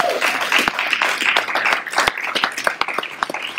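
A church congregation at a Sunday service claps for musician Michael Paul, a fairly close round of applause with several sharp individual claps standing out toward the end.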